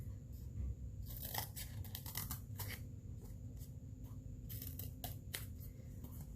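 Scissors snip out a fabric circle for a homemade bunny ball rabbit toy, with quiet close crisp cuts clustered in short bursts over a low steady background hum.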